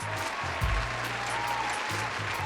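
An audience claps steadily for the full stretch, a dense even wash of applause with a faint low voice murmuring underneath.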